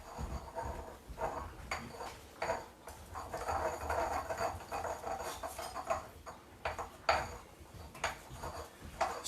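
Someone rummages through a home kitchen for a spatula, with utensils and pans clattering in scattered bursts of clinks and knocks at moderate volume.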